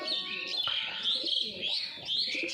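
Domestic pigeons cooing softly in a loft, with steady twittering bird chirps layered over the low coos throughout.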